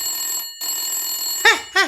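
A cartoon telephone rings after a police station number is dialed, first as a steady electronic tone with a brief gap, then as two sharp, loud rings close together, with no talking.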